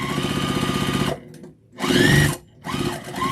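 A sewing machine stitches down the side of a phone pocket on an infinity scarf, running in two steady bursts with a short pause between them, close and loud with no talking.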